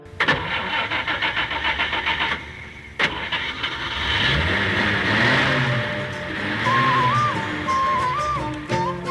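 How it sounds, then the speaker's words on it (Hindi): A truck engine cranks, catches and settles into a loud, steady idle close by after a brief stutter, with a faint tonal whine over the running motor. "चाचा जी ने ट्रक स्टार्ट किया।"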